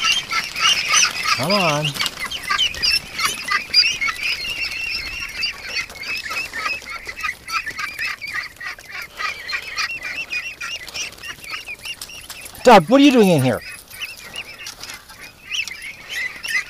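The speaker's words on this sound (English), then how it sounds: "Okay, there's one more Muscovy in here." Muscovy ducks squawk and flap their wings indoors, with two loud honking bursts early and late over ongoing rustling and flapping, while a person talks to them.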